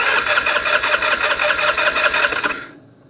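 Loud, close engine of a Taotao 150cc ATV cranking with a steady pulsing rhythm as the start is attempted, then cutting out abruptly and falling silent near the end.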